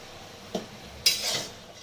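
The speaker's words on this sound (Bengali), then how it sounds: "সেগুলোকে এবার একটু নেড়ে চেড়ে দেবো।" Greens being stirred with slit green chillies in a pan, a soft tap followed by a sharp metallic scrape and brief rustle, close and quiet, with no talk.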